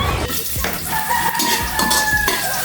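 Garlic and ginger frying in a pan with vegetables, a steady sizzle broken by stirring and the clink of a utensil against metal, no talking.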